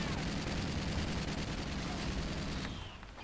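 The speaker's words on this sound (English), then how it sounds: "Grenade turret." In Call of Duty: Ghosts Extinction gameplay, a grenade turret fires a dense, continuous barrage of loud blasts and crackling gunfire that thins out near the end.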